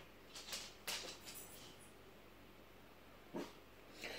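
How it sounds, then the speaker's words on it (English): Dogs indoors give a few short, sharp barks, spaced out and faint against a quiet room. "Don't y'all bark either."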